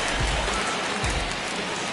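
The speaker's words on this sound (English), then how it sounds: "the conditions aren't ideal with the rain coming down" Steady rain hisses throughout a baseball video game broadcast, a dense even wash with a couple of low thumps beneath it.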